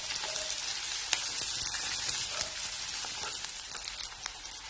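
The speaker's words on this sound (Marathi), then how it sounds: "आणि मग त्याच्यामध्ये हा उभा चिरलेला मोठा कांदा तो घालायचा. असा आपण कांदा भाजून घेऊया." Sliced onion sizzles steadily in hot oil with cumin and mustard seeds, a dense broadband hiss with scattered sharp pops and crackles throughout.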